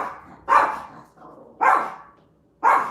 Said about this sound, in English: Why is there somebody knocking at my door and causing my dog to go bonkers?